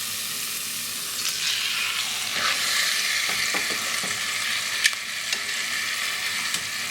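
Pork chops fry steadily in a pot for Puerto Rican chuletas guisadas, a loud continuous sizzle and crackle with occasional light metallic clicks and scrapes.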